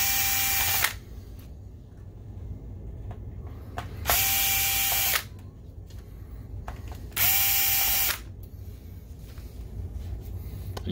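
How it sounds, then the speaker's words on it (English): A power screwdriver drives out long machine screws from the optic assembly of a Steelcase Polyvision PJ905 DLP projector, in three loud bursts of about a second each with quiet pauses between. "So to take this out, it's only three long-ish machine screws."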